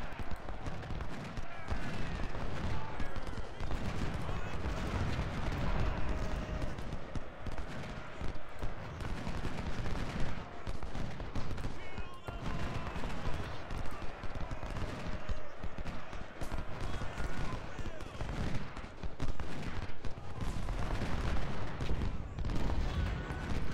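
Rifled guns and artillery fire in a battle of the video game Ultimate General: Civil War, dense crackling volleys and booms rolling continuously throughout, with someone talking softly over them at times.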